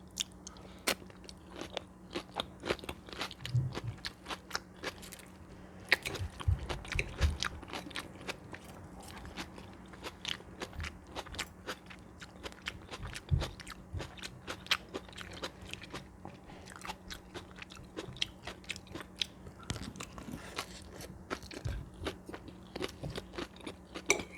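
Salad with boiled egg being eaten, with crisp bites and steady crunching and chewing close up, repeated throughout with no talking.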